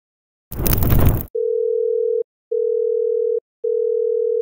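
A phone call going unanswered: a short burst of noise, then a repeating ringback tone in three long even pulses separated by brief gaps, clear and close with no one picking up.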